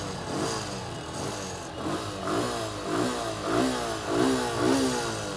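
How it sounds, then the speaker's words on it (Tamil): A Suzuki Gixxer SF 150 motorcycle engine idles and revs in a series of rising blips, steady mid-range engine tone close by with no talking. "வண்டி ஸ்டார்ட் பண்ணி காமிச்சிருவோம்."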